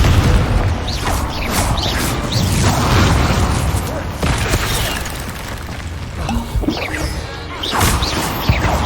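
In the Hogwarts Legacy video game, Confringo blasting spells go off in a quick series of loud smashing explosions and crashes, dense and booming with short gaps, and a character's voice can be heard between the blasts.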